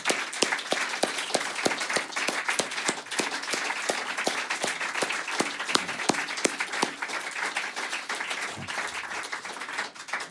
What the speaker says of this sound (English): one more round of applause for all of this crew